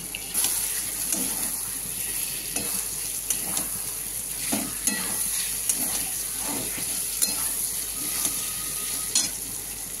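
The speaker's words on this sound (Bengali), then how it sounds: "এবার দিয়ে দিচ্ছি সবজিগুলো এক এক করে, দিয়ে সবজিটাকে দিয়ে আমি কষবো।" Vegetables for paneer chilli stir-fried in a hot pan, a continuous loud sizzle broken by scraping spatula strokes and occasional clinks, with no voices.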